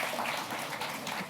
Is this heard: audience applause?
yes